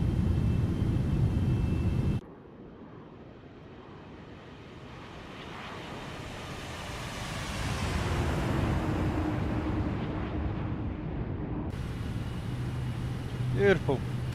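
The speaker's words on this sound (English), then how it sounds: "Does the Pratt & Whitney engine sound different?" Pratt & Whitney engines on a Boeing 777 in the X-Plane 12 flight simulator give a steady broadband jet roar. It swells gradually through the middle and sits near and continuous, with brief louder passages at the start and end.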